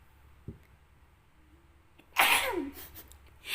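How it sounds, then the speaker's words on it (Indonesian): One sudden, loud human sneeze bursting out after a quiet pause and a small intake of breath, followed by a brief trailing exhale and rustle. "tiba-tiba pengen bersin"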